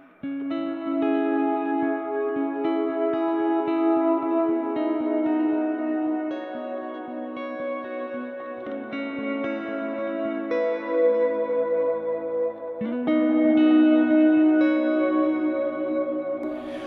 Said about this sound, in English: That is a big reverb.